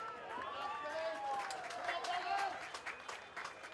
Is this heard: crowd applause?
yes